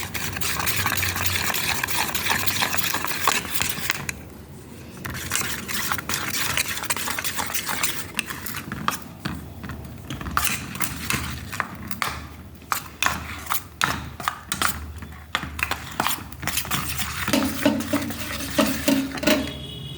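Batter mixed with chopped onion and green chili for golaruti in a home kitchen, stirred by hand in a bowl, with continuous close scraping, clinking and tapping against the vessel, busy and rhythmic with no talking.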